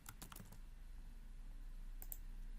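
Someone types on a computer keyboard while entering an inspection date into safety equipment-management software. Quick clicks come in a short burst at the start and again around two seconds in, over a steady low hum, with no talking.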